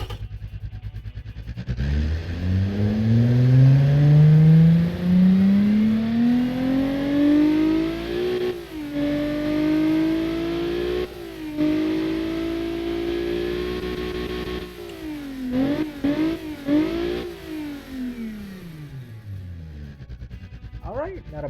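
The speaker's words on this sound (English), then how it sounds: "let's fire it up and let's see if this beautiful V6 comes to life" A V6 car engine in the Automation game fires up and revs, climbing steadily in pitch, settling into a loud idle, then blipping the throttle several times in quick succession before cutting off.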